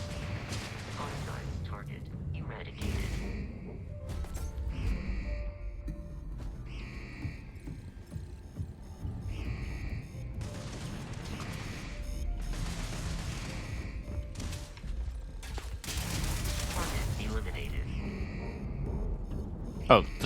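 Turrets in the Starfield video game fire repeated bursts of gunshots at a distance, fairly faint and intermittent across the stretch, while someone talks over them.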